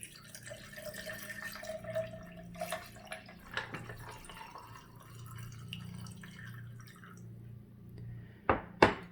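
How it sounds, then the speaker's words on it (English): Cold filtered water trickles and gurgles softly into a punch drink, with faint splashes and a couple of sharper clinks at the end; quiet and close. "just going to pour in some cold filtered water"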